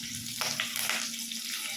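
Cumin and curry leaves fry in hot oil in a pan, a close, crackling sizzle with a couple of brief louder bursts as the spices are stirred; no one speaks.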